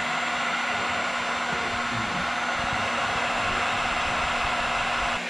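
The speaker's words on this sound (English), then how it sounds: "we'll grab a heat gun. Oh, it's a heat gun." A heat gun blows hot air to shrink a label onto an aircraft wing wire harness, producing a steady, loud, close whooshing blower noise with a constant tone that continues without pause.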